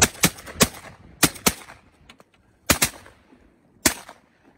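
Several sharp shotgun blasts fired at incoming birds during a hunt, coming in separate bursts of one or two quick shots with pauses between them, loud and close, with no talking.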